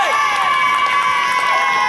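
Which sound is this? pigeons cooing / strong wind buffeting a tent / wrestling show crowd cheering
wrestling show crowd cheering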